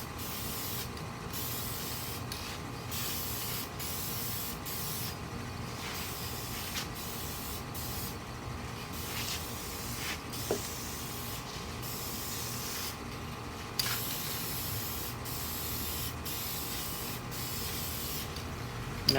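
A protective coat is sprayed onto a homemade wooden drawer, with repeated soft hissing bursts separated by short pauses, fairly quiet and close, with a couple of faint clicks in between.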